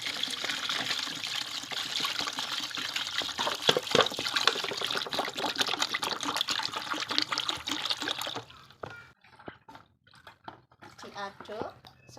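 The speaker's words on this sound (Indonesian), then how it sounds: "maka saya tetap akan mencairkan dengan air" Water poured from a container onto potassium chloride (KCl) fertilizer to dissolve it for a longan tree, a steady close trickle and splash for about eight seconds, followed by quieter drips and stirring while someone speaks.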